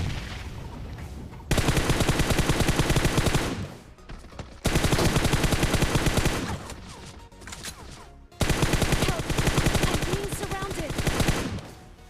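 Automatic AKM rifle fire in the video game PUBG, loud and close, in three long rapid bursts separated by short gaps.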